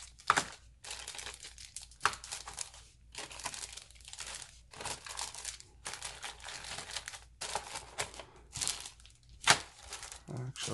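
Plastic bags crinkle and rustle up close while the pieces of the Teotihuacan board game are packed into its box, in repeated bursts of crackling with short pauses between handlings.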